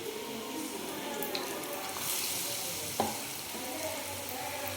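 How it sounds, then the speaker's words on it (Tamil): Batter-coated vada pav potato balls fry in hot oil, a steady bubbling sizzle heard up close, with a brief metallic clink partway through and no talking. "இப்போ எண்ணெயில் வந்து போட்டிருக்கு"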